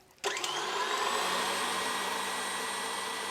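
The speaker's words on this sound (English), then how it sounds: "I'll just whisk it all together." An electric mixer whisks a Christmas batter seasoned with salt, a steady close-up motor whir that switches on abruptly and runs evenly without pause.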